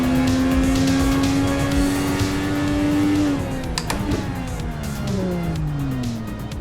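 An IndyCar in an Assetto Corsa racing game at the Indy 500 oval, engine whining steadily at high pitch, then its note drops and falls away as it slows, with other car noise underneath.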